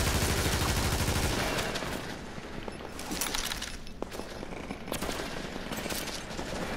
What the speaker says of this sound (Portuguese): Acho que tá tendo tiroteio na frente e nas costas.